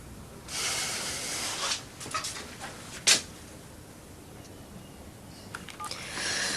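Telephone dialing: a scatter of short tones and key presses between stretches of quiet room hiss, with one sharper, louder tone in the middle.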